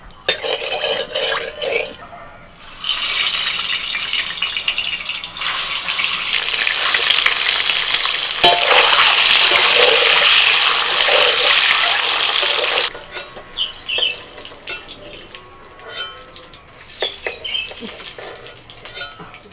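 Salt and turmeric hitting hot oil in a pan, a loud bright sizzle that swells and holds for several seconds before dropping off abruptly, with clinks of utensils before and after.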